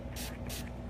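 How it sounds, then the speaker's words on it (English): A makeup setting spray bottle squirts onto a cosmetic sponge in two quick, sharp hissing bursts close by, over a steady low background hum. "Setting spray."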